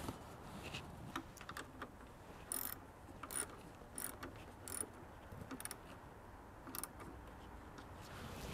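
A socket wrench tightening a battery connector on a Chevy Colorado, quiet rapid ratchet clicks coming in short bursts with pauses between, faint and close.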